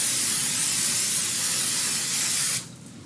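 Brake cleaner sprays in a strong, steady close-up hiss onto the front brake rotors of a Chevrolet Equinox, then cuts off abruptly near the end.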